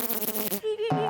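A voice mimics a buzzing bumblebee in a comic forest scene, a wavering nasal drone with pulsing harmonics lasting about a second, ending in a rising tone.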